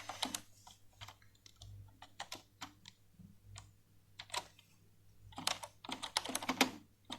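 Code is being typed on a computer keyboard in quiet, irregular bursts of crisp, close keystrokes with short pauses between them, all over a faint low hum.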